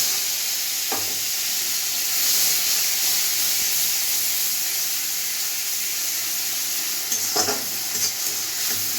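Onion paste sizzles in hot oil tempered with cumin, dried red chilli, green cardamom and cinnamon, a steady loud frying hiss throughout with a couple of brief stirring clatters near the start and end.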